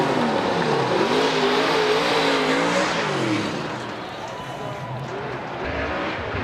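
Drift cars slide through a corner at Formula Drift Long Beach with revving engines and a wailing, rising and falling engine whine. A commentator talks over the loud roar, which eases off toward the end.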